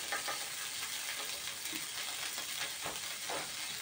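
Butter melting and sizzling in a hot pan under a partly cooked börek, a dense, steady frying hiss, close and quiet, with faint stirring sounds and no speech.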